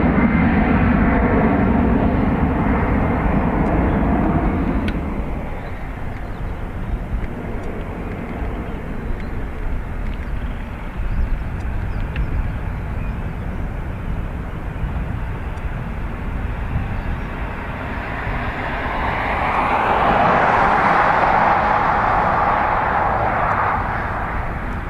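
An airliner departs Dublin Airport's north runway for Heathrow, a loud broadband jet roar that eases in the middle, then swells again with a rising whine near the end, with no talking.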